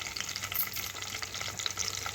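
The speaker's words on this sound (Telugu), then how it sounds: "జస్ట్ జీలకర్ర పచ్చిమిరపకాయలు వేస్తున్నాను. ఇవి ఒక్కసారి బాగా వేయించుకోవాలి." Cumin seeds and green chillies fry in hot oil in a pan, making a faint, steady crackling sizzle with scattered small pops and no voices.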